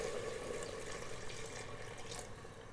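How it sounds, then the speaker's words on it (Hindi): Water is poured into mutton and potato curry (aloo gosht) in a pressure cooker, giving a quiet, steady splashing hiss that fades slightly toward the end. "मैंने इसमें 2 गिलास पानी ऐड किए हैं।"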